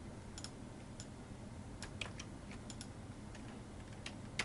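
Computer keyboard keys tapped during cut-and-paste shortcuts, scattered faint clicks in short bursts over a quiet room hum.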